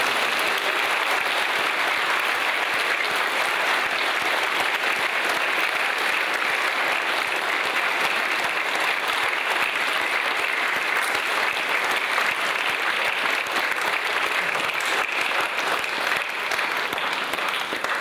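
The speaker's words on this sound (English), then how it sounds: "ladies and gentlemen, a big applause for our confirmation" A church congregation applauds its confirmation class, dense sustained clapping from a large crowd filling the room steadily and evenly for the whole stretch without a pause.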